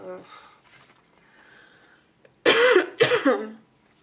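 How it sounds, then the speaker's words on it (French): A woman coughs twice in quick succession, close and loud, after a stretch of quiet breathy sounds and faint murmuring. "j'arrête pas de tousser un petit peu"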